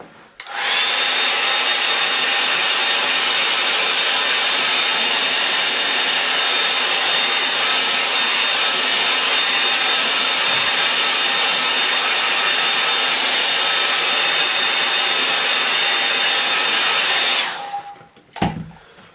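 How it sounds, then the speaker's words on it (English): A hair dryer blows steadily at close range with a loud, constant whooshing roar and a faint high whine, then switches off near the end. "I'll give that a dry with the hairdryer"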